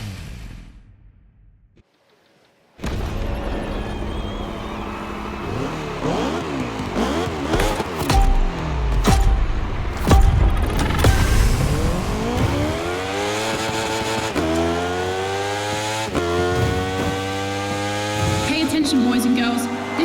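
Racing engines roar in The Crew Motorfest, rising and falling through repeated gear shifts and revving sweeps after a short near-silent opening, loud and continuous with no talk.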